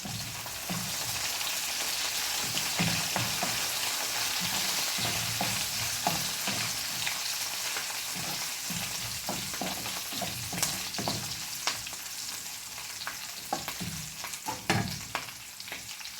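Curry leaves dropped into hot oil already frying ginger and garlic, producing a constant loud crackling sizzle with occasional stirring scrapes and pops, close up.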